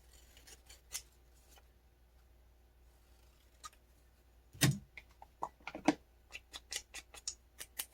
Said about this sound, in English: You could cut all of them out beforehand or just cut them out as you go like I'm doing.